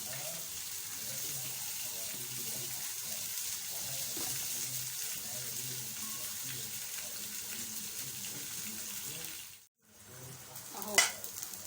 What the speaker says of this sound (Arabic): هحمر بقى الرز في الزيت ده شويه كده